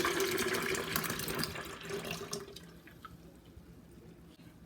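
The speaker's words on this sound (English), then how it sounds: "The peach syrup." Peach syrup poured into a pitcher of tea while making peach iced tea, a steady liquid trickle and splash that runs for a couple of seconds, then thins to faint drips.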